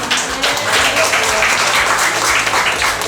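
Audience applause at a National Kebaya Day parade event in Bali, a dense, steady wash of clapping filling the whole moment, loud and continuous with no clear break.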